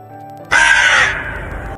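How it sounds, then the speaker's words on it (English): A common raven (Corvus corax) gives a single loud, harsh, croaking caw that starts abruptly and holds for over a second before trailing off, heard close and alone. "Corvus corax common raven"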